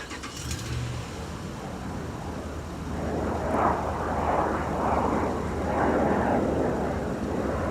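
A Delta airliner on final approach at MSP airport rumbles in the distance, its engine roar swelling and wavering as it draws nearer, steady and broad without talk.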